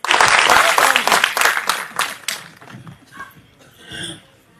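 Audience applause at a birthday poetry gathering in Maharashtra, dense and loud at first, then thinning and tapering off after about two seconds, with a brief swell of scattered claps near the end.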